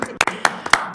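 A few people clap in a council meeting room, about five sharp, close handclaps in an uneven rhythm, with a voice briefly present in the background.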